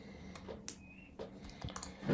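A computer keyboard being typed on as a terminal command is entered, giving a handful of sparse, quiet key clicks at irregular intervals, with a louder clatter at the very end.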